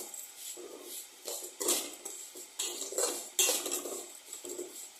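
Chicken being mixed with masala in a pot for chicken biryani, a utensil scraping and clinking against the metal in a steady run of close, uneven stirring strokes with no talk.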